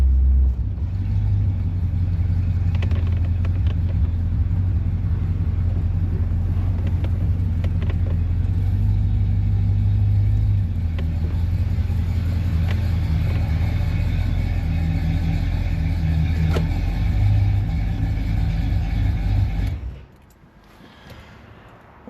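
A 1976 Chevrolet Corvette rumbles with a deep, steady, close-up engine drone throughout a short drive, with slight swells in revs, before the sound drops away abruptly near the end.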